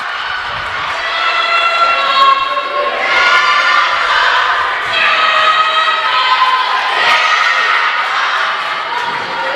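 Beloit volleyball fans on the road cheer and shout loudly in a gym during a women's college match against Eureka College, a sustained roaring crowd that swells and dips over several seconds.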